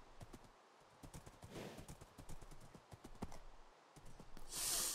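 Horse hooves in Minecraft, a faint, quick run of clip-clop steps in an uneven rhythm, with a brief whoosh midway and a louder burst of noise at the end.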